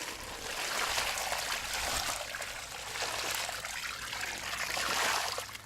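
Water pours steadily onto soil around a newly planted fruit tree, a continuous close splashing trickle for several seconds without pause.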